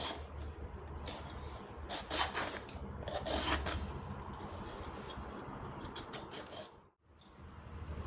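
A knife scraping and peeling the skin off a vegetable in a kitchen, a close, rough rasping in repeated strokes of varying strength, with a brief pause near the end and no talk.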